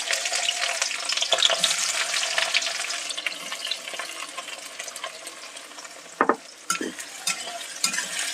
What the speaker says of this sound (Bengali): এবার এখানে পেঁয়াজ কুচি দিয়ে দিচ্ছি।